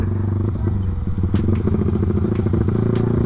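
Yamaha Vixion motorcycle with a 195 cc engine running close by, a loud, steady, throbbing low rumble with rapid pulsing firing beats and a few faint clicks.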